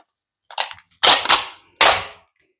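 Packing tape ripped off its roll onto a cardboard box in three short, loud, raspy pulls, close up, with no talking.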